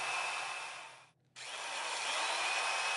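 A steady high-pitched drill whine runs continuously while drilling through holes in a knife handle scale, cutting out briefly for a moment before resuming at the same close, even level.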